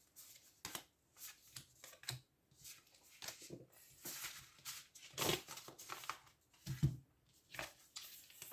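Tarot cards are drawn and handled up close, with soft, scattered slides, flicks and taps of card stock in short bursts separated by quiet pauses.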